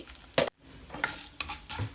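Urad dal, cumin, mustard seeds and dry chillies fry in hot oil with a low sizzle, broken by a few sharp spoon stirs and scrapes that come close together, with no voice.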